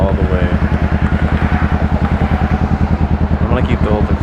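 Honda Rebel 500 motorcycle fitted with a loud straight-through DBK exhaust with no catalytic converters, idling close up with a steady, fast, lumpy pulsing throb that barely varies.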